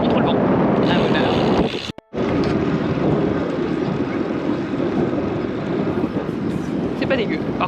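Strong wind roaring across a microphone while riding a bike flat out into a headwind, a loud continuous rush broken by one brief dropout.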